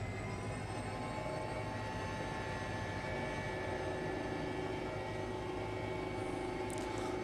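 Airbus H135 helicopter in Microsoft Flight Simulator 2020, engines spooling toward flight mode near London: a continuous droning whine with steady tonal hums layered over broadband rumble, loud and unbroken.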